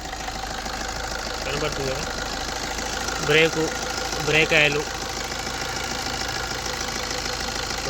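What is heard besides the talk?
Maruti Swift VDI 2009 diesel car engine idling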